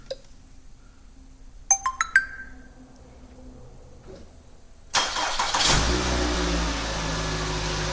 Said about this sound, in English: We're going to now start the engine.